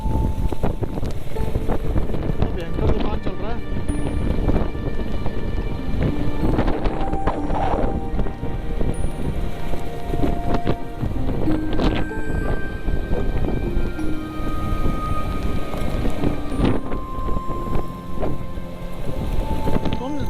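Heavy rain pours on a road in Uttarakhand in a loud, constant downpour, while thunder rumbles through it several times.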